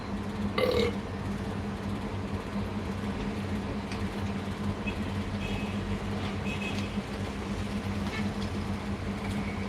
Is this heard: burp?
yes